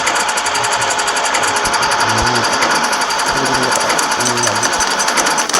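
A generator-powered grinding machine runs loud and close, its steady motor drone carrying a repeating rhythmic chug, while a voice speaks briefly over it.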